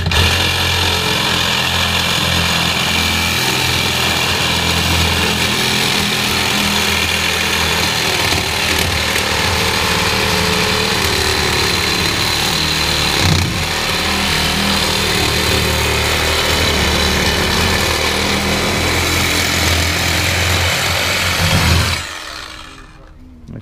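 A power saw cuts through a stainless steel exhaust pipe from a PPV exhaust, a loud steady grinding whine running continuously for about twenty-two seconds before stopping abruptly.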